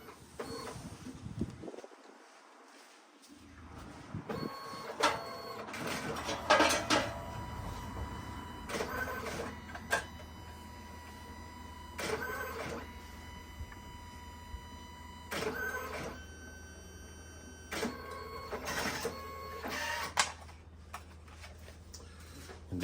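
Photo printer printing a photo booth shot, a low steady motor hum with repeated mechanical clicks and whirring bursts at regular intervals, close and fairly quiet.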